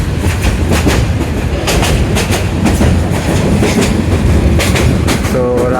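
Steady low rumble and rhythmic clickety-clack of wheels on rails, heard from inside a night passenger train bound for Sunamganj, Bangladesh, running continuously and loudly with no talk.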